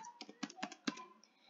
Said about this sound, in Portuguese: Aí aqui você vai digitar o seu e-mail acadêmico